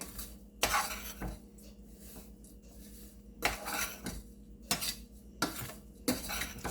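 Repeated scraping and clinking of a spoon against a bowl as a dry spiced wheat flour mixture is stirred, in uneven bursts with quiet gaps between.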